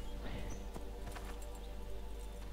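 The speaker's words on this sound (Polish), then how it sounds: "Dorwę konia lepiej." Horse hooves clip-clopping in the video game Assassin's Creed II, a few soft hoof thuds at moderate distance under quiet background ambience.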